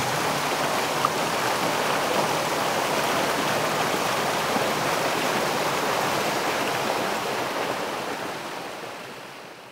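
Spring water flowing from a pure mountain spring, a continuous broad rushing and splashing that stays steady and close throughout, fading slightly at the end, with no voices.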